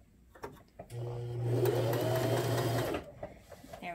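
A Brother JX3135F sewing machine runs a regular straight stitch, a steady close motor whir with rapid needle clatter lasting about two seconds, framed by small handling clicks.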